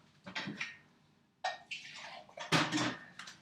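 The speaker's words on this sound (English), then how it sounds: "I'm just going to dispense this green one." Green homemade hand sanitiser liquid squirts from a bottle in a few short, wet bursts and splashy gurgles, close and fairly quiet, with gaps of near silence between pumps.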